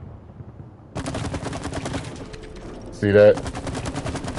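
Rapid gunfire from a weapon in the co-op game It Takes Two, a steady stream of quick shots rattling along for several seconds while a voice briefly speaks over it.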